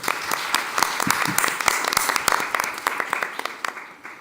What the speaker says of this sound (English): Can we give them a warm round of applause and welcome them here?